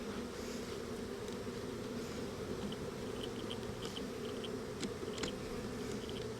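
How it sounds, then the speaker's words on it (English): Honey bees buzz in a steady, droning swarm while a bee package is installed, a continuous close hum with scattered louder passes of single bees and a brief knock at the end. "Come on, bees, move out of the way."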